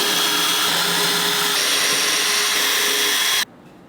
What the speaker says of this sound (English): Just gotta get a drill gun.